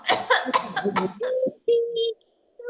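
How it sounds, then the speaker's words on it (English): A young girl coughs several times in quick succession in a children's English listening-test recording. The rough bursts are followed by short voiced, tonal sounds. "She's got a cough."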